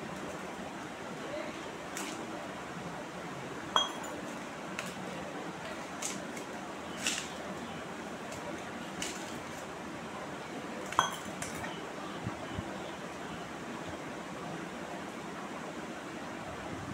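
Sparse light clinks of a utensil against a pot while a mixture is stirred with water, a few isolated taps over a steady low background hiss.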